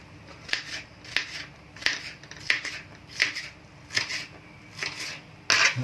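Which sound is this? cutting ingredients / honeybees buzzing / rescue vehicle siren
cutting ingredients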